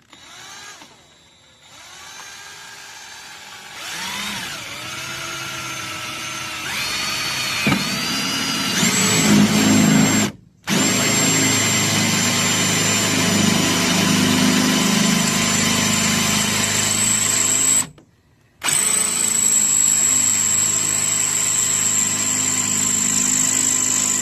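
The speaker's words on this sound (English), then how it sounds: "Of course, I got the dullest drill bit in the history" A power drill with a dull bit bores into the metal of a 2002 GMC Sierra truck, a steady loud whining grind that rises in pitch and runs for long stretches, broken by two brief stops.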